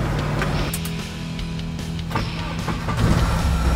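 A UAZ Bukhanka off-road van engine starting readily and idling with a close, steady rumble, plus a couple of short mechanical clicks and knocks.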